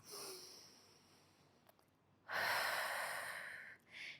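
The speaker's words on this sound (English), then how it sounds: "Take some deep breaths." Deep, loud breaths during a core workout on an exercise ball, with a short inhale, a pause, then a long heavy exhale close to the mic.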